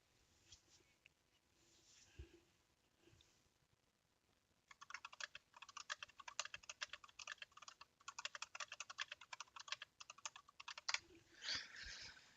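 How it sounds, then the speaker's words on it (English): Rapid clicking of keys as a message is typed on a computer keyboard, at first sparse and quiet, then a dense, steady patter of keystrokes at close range with no talking. "If you heard me clicking away and then you saw the message come up"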